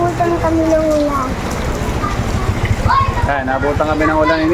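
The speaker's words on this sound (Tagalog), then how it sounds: "Yung nabutan kami ng ulan." Steady rain pours outdoors during a jog, a dense hiss that lasts the whole stretch while people talk over it.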